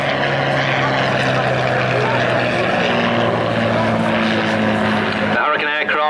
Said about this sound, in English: Mirrored the sound of that Merlin engine.